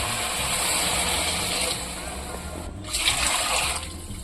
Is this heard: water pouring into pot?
yes